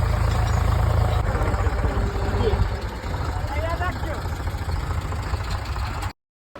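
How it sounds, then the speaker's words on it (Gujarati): A tractor's engine rumbles in a village field where it has come for ploughing, a loud, steady low idle that eases slightly partway through, with people talking over it. "તમે જો ટ્રેક્ટર આવી ગયું છે ખેડવા માટે નહીં"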